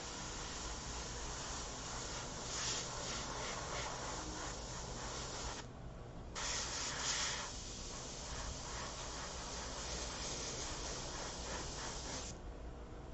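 A steady airy hiss of paint spraying runs throughout, broken by two brief pauses before resuming.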